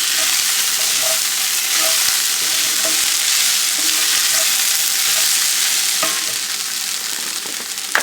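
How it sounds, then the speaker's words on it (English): Okra stirred and frying in a pan gives a steady, loud, hissing sizzle throughout, with faint scraping taps of the stirring utensil scattered through it. "I'm going to mix my okra with that."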